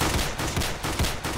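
Rapid gunfire in the Roblox shooter Counter Blox, a dense, continuous burst of shots with a steady repeating pulse, loud and close, with no talk over it.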